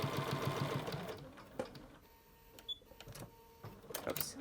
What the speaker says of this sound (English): just gonna sew, top stitch that opening shut basically